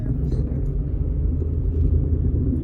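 A manual car taking off as gas is applied, a loud low engine rumble heard from inside the cabin, steady and close, with a voice speaking over it.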